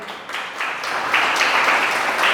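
A church congregation breaks into applause that swells from scattered claps to a fuller, steady round of clapping, fairly close and without voices over it.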